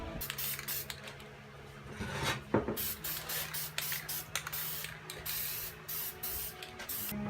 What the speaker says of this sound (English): First thing we want to do is we're going to spray a guide coat on it.